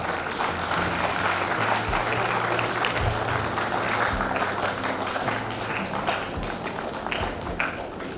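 A school audience at an English Week celebration claps steadily for winners on stage, a dense, sustained round of applause with a low hum running beneath it.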